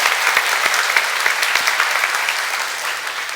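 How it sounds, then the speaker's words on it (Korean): A church congregation applauds encouragement for its young people, steady dense clapping filling the room throughout, loud and continuous with no talk. "여러분 수고한 우리 청년들에게 격려의 박수 해주시면 좋겠습니다"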